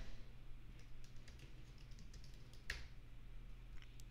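Soft, quiet clicking of a computer keyboard while typing into a file in the nano editor on a Mac, a light irregular patter under a low steady background hum.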